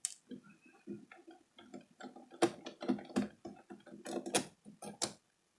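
Screws come out of a PlayStation 3 disc drive with a string of small, close metallic ticks and clicks as a screwdriver turns, irregular and quiet, with no talk.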